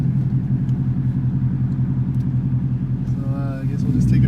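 A 2018 Ford Mustang GT making about 470 wheel horsepower, in sport mode, rumbles steadily with a low gurgling exhaust burble, close and continuous, while a voice speaks briefly near the end.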